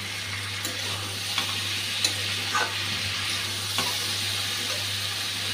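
Spice paste fries with mixed vegetables for a paneer and vegetable curry, giving a constant loud sizzle and hiss with occasional scraping stirs of the spoon against the pan and a steady low hum underneath.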